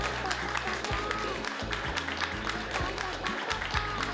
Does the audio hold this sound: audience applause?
yes